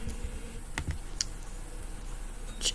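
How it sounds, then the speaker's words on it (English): Typing on a computer keyboard, a run of close, uneven key clicks with a few sharper taps, alone with no talk. "hold on, God, my typing is so bad"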